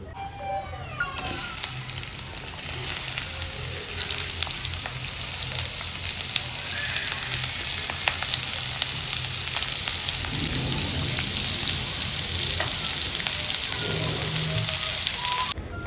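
Ginger and green chilies frying in oil, a bright continuous hiss of sizzling with occasional stirring and faint background noises, no speech.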